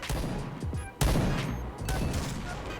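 Bursts of rapid gunfire in PUBG, a player shot at from behind, loud and dense with a sharp fresh volley about a second in that keeps rattling on.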